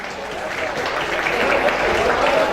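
An audience applauds as a dance is about to start, a steady wash of clapping that swells slightly toward the end, with some voices mixed in.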